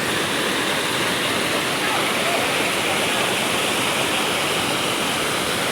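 Veto Falls, a mountain waterfall, roaring loud and steady up close as a dense, unbroken wash of falling water.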